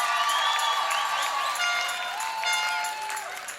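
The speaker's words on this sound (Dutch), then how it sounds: "Mag ik een heel groot applaus voor Joes Brouwers." An audience claps warmly for a young musical performer being introduced on stage, a broad, sustained wash of hands that starts full and gradually softens toward the end, with faint tonal sounds threaded through it.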